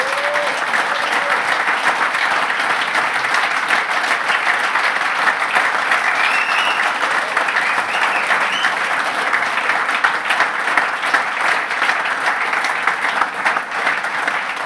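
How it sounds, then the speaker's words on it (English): Audience at an awards ceremony applauds steadily and fairly loudly for about fifteen seconds, a dense, even wash of many clapping hands, with a few faint voices underneath. "please give a clap, and I hope you didn't leave and are in the room."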